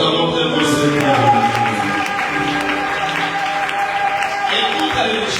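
Congregation applauding at a church worship service, a steady sustained clapping throughout with musical tones and voices mixed underneath.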